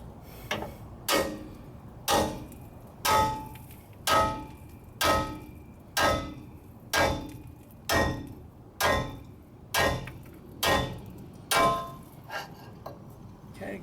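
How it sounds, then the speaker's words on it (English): Hammer blows on a pickle fork driven into a 1997 Ford F150 lower ball joint, about a dozen sharp metallic strikes at a steady rhythm, close and loud. "we gotta hit it with a pretty good size hammer like that"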